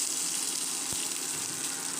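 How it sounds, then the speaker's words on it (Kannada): Cumin and mustard seeds tempering in hot oil give a steady, loud sizzling hiss, with a single sharp pop near the middle. "ಸ್ವಲ್ಪ ಜೀರಿಗೆ, ಸಾಸಿವೆ ಚಟಪಟ ಅಂತ ಸಿಡಿಲಿ"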